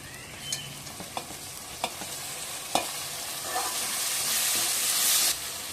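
Tomatoes go into a mutton curry frying in a pan: a loud, steady sizzle with several sharp spoon taps and scrapes against the pan, close up, the hiss swelling toward the end.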